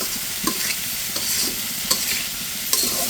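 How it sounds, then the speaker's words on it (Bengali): Fried green bananas sautéed in spice masala, a steady sizzle broken by repeated scraping stirs of a spatula in the pan, a few sharp knocks spaced across the stretch. "এখন এই মশলার সাথে কলাটা একটু কষিয়ে নেব।"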